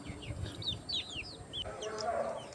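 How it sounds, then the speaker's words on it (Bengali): Farm chickens peck at homemade feed of greens and leafy plants, giving off a steady stream of close, overlapping clucks and high chirps. "দেখতে পাচ্ছেন মুরগিগুলা খুবই মজা করে খাবারগুলো খাচ্ছে।"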